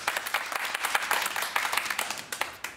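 Journalism master's students clap at a hackathon, a fairly quiet, scattered burst of applause with individual claps audible, fading near the end.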